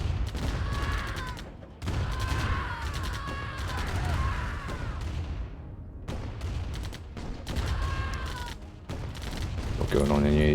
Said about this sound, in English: Using the Apache to finish off the harvester.